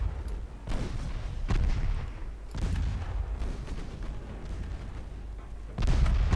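Naval guns fire aboard a warship in the Ultimate Admiral Dreadnoughts game, a few heavy booming blasts separated by a dull rumble that continues throughout.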